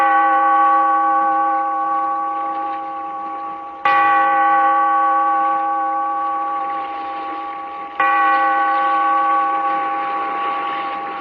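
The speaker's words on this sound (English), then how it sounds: "Bellkeeper, toll the bell, so that all may know we are gathered again in the" A large church-style bell tolls three times at a slow, steady pace, each loud stroke ringing out with a long sustained hum that fades only slightly before the next strike, with no other sounds.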